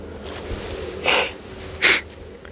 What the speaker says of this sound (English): Sorry about my sniffles.